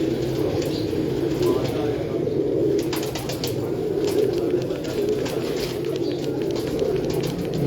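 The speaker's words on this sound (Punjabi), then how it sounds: "ਇਹ ਸਰ ਪਿਓਰ ਬਟੇਰਾ ਕਬੂਤਰ ਹੈ" Batera pigeons, a fancy pigeon breed, cooing in low throaty bursts close by over a steady bed of flock noise, with occasional wing flaps and faint voices in the background.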